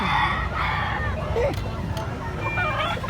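White leg roosters and other chickens for sale cluck and crow close by amid the bustle of an outdoor sale, with people talking over and around the birds.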